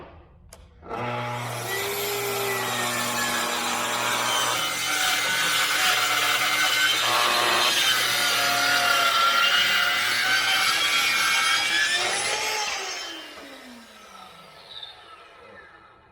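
A Festool track saw spins up and cuts through wood with a loud, steady whine and rasp lasting about twelve seconds, then winds down to a stop, close by with no talking.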